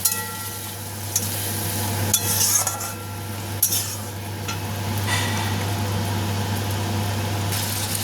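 Potatoes stirred and fried with a spice paste and a splash of water for chole aloo: an ongoing sizzle with intermittent clinks and scrapes of a spoon against the pan over a steady low hum.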